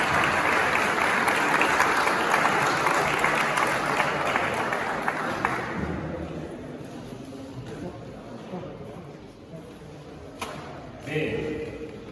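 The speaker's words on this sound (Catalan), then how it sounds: "Un aplaudiment per ell, sisplau" A crowd applauds the mayor at an amateur radio hamfest in Sant Corneli, a loud, dense clapping that fills the first half, then thins and fades into scattered claps and murmuring.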